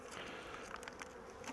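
Honeybees buzz around a hive in a dense, faint, continuous hum with scattered individual buzzes rising and fading, heard alone in a brief stretch.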